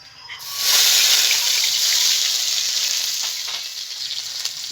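Onion paste hits hot oil already seasoned with bay leaf and whole cumin, bursting into a loud, close sizzle that swells quickly, then settles into a steady hissing fry, easing slightly toward the end.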